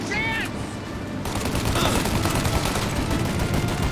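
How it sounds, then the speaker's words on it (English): Rapid gunfire from a shootout in Mafia: Definitive Edition, dense bursts of shots after a brief quieter opening, loud and close and continuing to the end. "Shoot out your gun when there's a break in the fire!"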